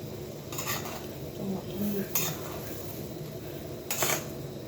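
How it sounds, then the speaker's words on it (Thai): Ingredients being stir-fried and tossed with fried tofu in a pan, with a few sharp clanks of utensil against the pan over a steady sizzle and low kitchen noise. "ผัดคลุกเคล้าให้เข้ากันครับ"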